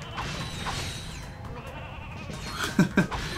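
Sheep in the video game Ratchet & Clank: Going Commando give two short bleats close together near the end, heard over a mechanical hum and soft game sounds.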